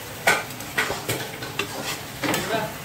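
A spoon scrapes in steady, rhythmic strokes through thick bottle gourd halwa cooking with sugar, with five or six close scraping bursts over a faint sizzle.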